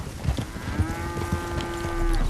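Cattle mooing inside the Red Dead Redemption 2 game world, one long drawn-out low moo rising over a busy background of other animal and ambient game noise.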